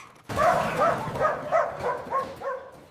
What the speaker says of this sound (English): That dog is very loud.